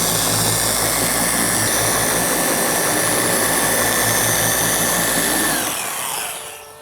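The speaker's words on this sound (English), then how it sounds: "I'm letting the machine do everything for me. The pad is doing the work." A machine polisher working over car paint, a loud continuous motor drone with a gritty pad-on-paint hiss that spins down near the end, very close and with no talking.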